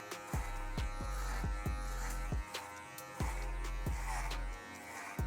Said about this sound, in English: I go ahead and grab it and then run the clipper through it.